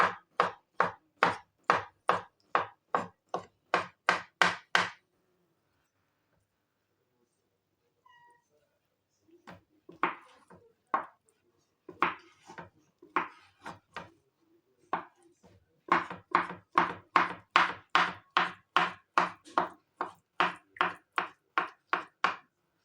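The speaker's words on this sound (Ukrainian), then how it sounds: "Я нарізаю дрібненько" Rapid, evenly paced knife chops finely cutting food on a cutting board come in long runs, pausing midway for a stretch of scattered taps and quieter cutting.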